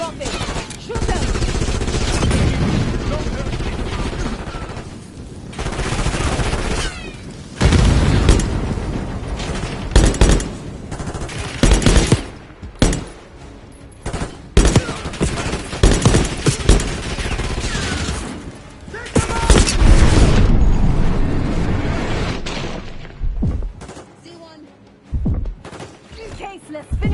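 Gunfire rattles in a Call of Duty Black Ops 6 campaign: sustained loud volleys, bursts and booms, with voices speaking over the shooting at times.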